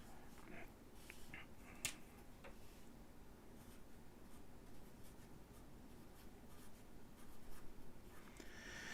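Faint pen scratching while a name is written on a small card, soft continuous strokes with a few small clicks and taps, close but quiet.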